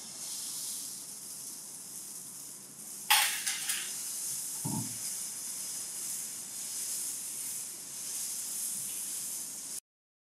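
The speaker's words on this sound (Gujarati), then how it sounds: "હવે 2 ચમચા જેટલું ઢોસાનું ખીરું આના ઉપર નાખવાનું." Mysore masala dosa batter spread on a hot tawa gives a steady, close sizzling hiss with a sharper spitting burst about three seconds in, continuing evenly until it stops near the end.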